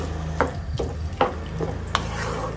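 Milk stirred into a ridge gourd curry over a low flame, a soft background simmer broken by three or four distinct spoon scrapes against the pan at an unhurried pace, close by and without speech.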